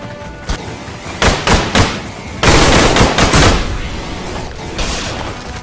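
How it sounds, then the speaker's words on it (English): Machine gun fire rattles in the sci-fi shooter Orion: Prelude, delivered in several loud bursts of rapid shots with heavy thuds between them, close and harsh, followed by a fainter burst near the end. "Taking fire."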